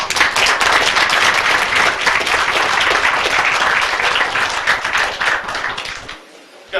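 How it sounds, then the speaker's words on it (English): Applause from the audience at a Palatka city commission meeting honouring armed services veterans, a steady patter of many hands clapping that thins out and fades near the end. "Let's go ahead and recognize them and give them a round of applause."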